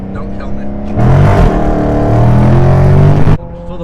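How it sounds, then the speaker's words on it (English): A Dodge Charger Scat Pack 392 Hemi V8 rumbles, then rises into a loud, throaty exhaust rev that holds for a couple of seconds before cutting back. "exhaust sounds really good"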